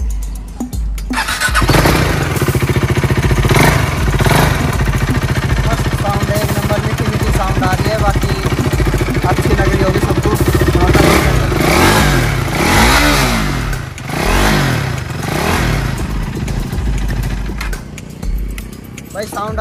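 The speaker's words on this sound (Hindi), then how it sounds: "अब एग्जॉस्ट की साउंड और सुना देते हैं, इसकी कैसी साउंड है" A KTM 390 motorcycle fires up and its exhaust is revved repeatedly, loud and close, with engine pitch rising and falling through several blips over a steady idle.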